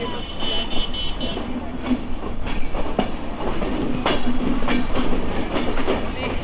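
Aboard the Madhumati Express, from Rajshahi to Dhaka, passing Pachuria junction, a loud steady rumble of wheels carries rhythmic clickety-clack beats and sharp rail knocks throughout.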